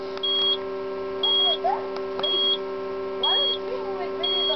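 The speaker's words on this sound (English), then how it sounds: "And the pager is now sounding." A UHF alphanumeric POCSAG pager sounds its alert as a repeating series of short, high electronic beep bursts about once a second, clear and close, over a steady background hum.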